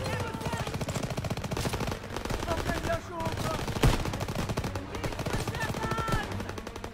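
Dense automatic gunfire from Call of Duty WWII on PS4, rapid continuous bursts with a few sharper single shots, loud and steady throughout with voices mixed in.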